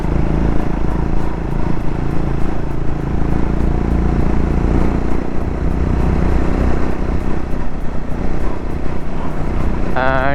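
A motorcycle engine drones loud and close, climbing uphill on a mountain road toward Kanyam in Nepal, with steady throttle and wind rush and no talk over it.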